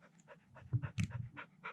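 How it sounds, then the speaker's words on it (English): An old hunting dog on a high mountain hike pants in quick, rhythmic huffs, close and fairly loud, with a few heavier breaths standing out. "He's running the oldest dog we've got out here, which is Charlie."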